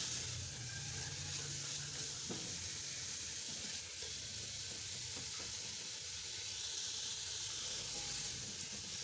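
Chicken meat sizzling steadily in a hot pan while being fried for chicken vegetable soup, a constant dense hiss and crackle filling the whole stretch, close and loud, with occasional soft stirring scrapes and no talking.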